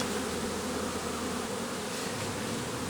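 A dense, continuous buzzing of many honey bees close by at a hive, a steady droning hum with no speech.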